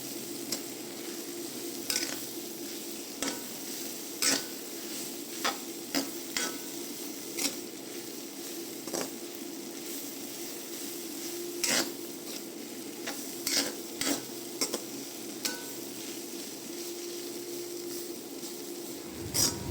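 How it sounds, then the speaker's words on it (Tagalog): Mulberry leaves and shrimp stirred in a cooking pan, with a steady sizzle under repeated scraping and clattering strokes of the utensil against the pan, close and fairly loud, with no talking. "Tapos halu-haluin lang natin."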